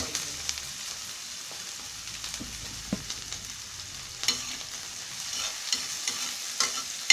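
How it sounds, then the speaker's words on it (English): Red herring frying and being stirred in a spicy preparation in a pan, a low steady sizzle with scattered scraping stir noises and small crackles, fairly quiet and close, with no talking. "We're going to give it a stir."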